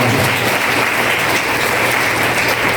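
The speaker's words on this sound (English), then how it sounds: "So I request everyone to kindly give a big round of applause for" Steady, dense applause from a large crowd at a public event with an MLA, loud and continuous throughout with no pauses.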